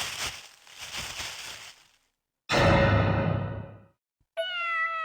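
A cat meows in an alley in a horror video game, loud and close, with a long drawn-out cry after earlier rustling and whooshing noises, then a brief tonal sound, no talking.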